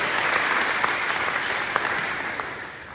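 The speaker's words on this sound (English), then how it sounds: "let's give her a round of applause as well" Audience at a school district breakfast event applauds steadily for a trustee, a dense wash of clapping that holds throughout and fades slightly at the end.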